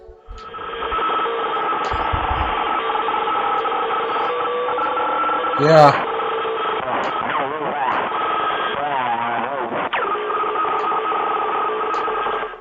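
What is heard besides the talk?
distorted radio frequency from video game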